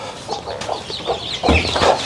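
Chickens cluck on a farm in Kenya where hens brood and hatch ducklings, a close series of short clucks and calls growing louder toward the end.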